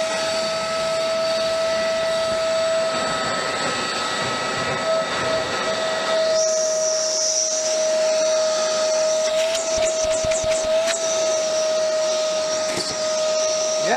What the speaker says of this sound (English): It's definitely way quieter than my other vacuum.